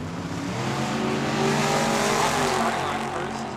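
A very fast Corvette on a drag strip at Tucson Dragway, its engine roaring and building as it launches down the track, loud and sustained with a crowd-like wash behind.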